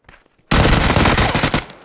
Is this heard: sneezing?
no